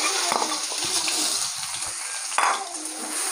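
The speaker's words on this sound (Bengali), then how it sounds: "এবার আমি কড়াই তেল দিয়ে দিয়েছি, এবার এই পেঁয়াজ বাটা দিয়ে দেবো।" Onion paste frying in hot oil in a wok, a steady close sizzle with scraping stirs and brief clatters of the utensil, no voices.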